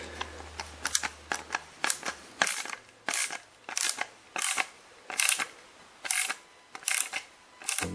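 Screw on a Kirby vacuum's belt lifter being tightened by hand, a close series of short ratcheting clicks and creaks repeating in a steady rhythm with brief pauses between turns, no talking.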